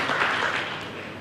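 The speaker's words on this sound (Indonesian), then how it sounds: "Berikan tepuk tangan yang meriah buat Tuhan." A church congregation claps together in a brief burst of applause that fades gradually, moderately loud and without voices over it.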